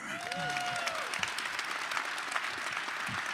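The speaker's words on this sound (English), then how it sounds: "keep clapping if you're excited about the draft" A crowd claps steadily, somewhat distant and soft, with a brief whistle rising over the applause near the start.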